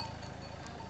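Sheep in the village of Ahmetçe near Ayvacık, with a steady low rustle and murmur of the flock filling the whole second, close and continuous, no clear bleat standing out.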